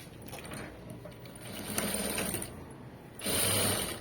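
A sewing machine stitches piping onto fabric, its motor whirring in short close bursts with a louder run at the end, between soft handling noises.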